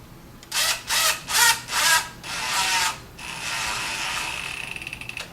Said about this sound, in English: going to take our screws and drive them in, stick them together